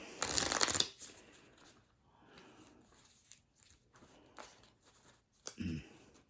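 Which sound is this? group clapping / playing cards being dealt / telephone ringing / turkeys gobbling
playing cards being dealt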